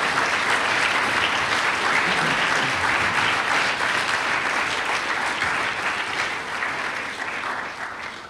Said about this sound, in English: So let's give all of our coaches a huge round of applause and appreciation.